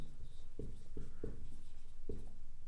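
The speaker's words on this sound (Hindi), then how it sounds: "अब हम एग्जाम्पल लेते हैं और पहला सेंटेंस लिखते हैं" Handwriting as a sentence is written out during an English grammar lesson: a few dry, scratchy strokes in uneven rhythm, close by and fairly quiet, with no talking.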